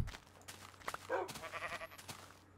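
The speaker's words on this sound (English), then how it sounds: "We got one sheep up here on the hill." Sheep bleats from a Minecraft game, a few short wavering calls over about two and a half seconds, fairly quiet against a near-silent background with no talk.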